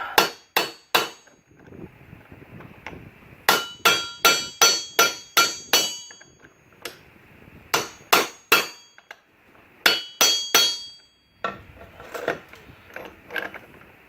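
Hammer blows ring out against a Jeep Cherokee U-joint during a driveline repair, coming in loud, sharp bursts of several quick strikes each with short pauses between them, and no voices.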